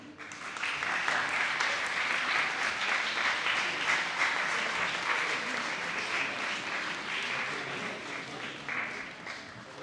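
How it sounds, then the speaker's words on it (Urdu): An audience at a Hamdard Naunehal Assembly gathering in Lahore applauds as a bouquet is presented, a broad, sustained wash of many hands that swells quickly and holds steady for about nine seconds, moderately loud and a little distant. "آپ کی بھرپور تالیوں میں."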